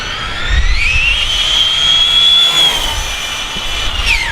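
A Bushmaster RC car with a 20T pinion screams past at high speed, its electric motor a loud rising whine that holds steady, then drops in pitch as it passes close and moves away, with no talk.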